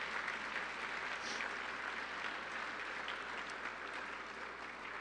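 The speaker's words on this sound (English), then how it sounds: "Please give the students a round of applause to welcome them and thank their sponsors." Audience applause welcomes students at a Michigan university research event, a soft, steady wash of many hands clapping that stays even throughout, heard from a distance with no talk over it.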